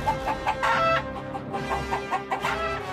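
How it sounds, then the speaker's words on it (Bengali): Three black chickens cluck in quick, uneven bursts as they scurry off, with several close, agitated calls overlapping across a few seconds in a story sound effect. "3টে কালো মুরগি বেরিয়ে ছুটল ঘরের ভেতর"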